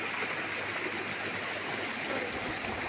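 A mountain stream rushes steadily in a constant, fairly faint wash of flowing water, with no talking.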